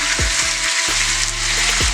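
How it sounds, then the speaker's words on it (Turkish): Thinly sliced meat for kavurma sizzles loudly in a hot pan, a constant crackling hiss with occasional thumps as pieces are moved or stirred. "Etlerimizi doğradık ince ince dilimler haline getirdik arkadaşlar. Ve eti salıyorum içine."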